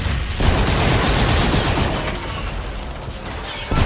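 Loud, sustained gunfire from a weapon in the video game Call of Duty: Infinite Warfare, a dense rattling burst of rapid shots running for several seconds with no talk over it.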